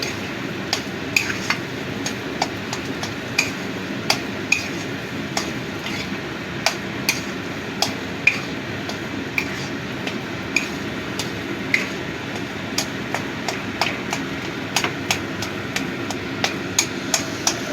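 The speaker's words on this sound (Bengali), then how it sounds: "এই আলুর সাথে ভালো করে মিশিয়ে নিচ্ছি।" Mashed prawn heads are worked together with potato by hand or spoon, giving a long run of light, irregular clicks and taps over a soft, steady mushing sound, with no talking.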